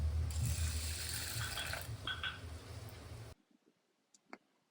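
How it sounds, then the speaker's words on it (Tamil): Water is poured over soaking fenugreek seeds in a kitchen, giving a rushing, splashing fill for about three seconds that then stops abruptly, leaving near silence with a couple of small clinks. "ஐம்பது கிராம் வெந்தயத்தை ஒரு தடவை அலசிட்டு தண்ணியை ஊற்றி ஊற வச்சுக்கலாம்"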